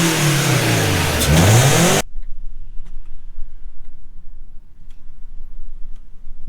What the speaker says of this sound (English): Yeah, rev it up a little bit.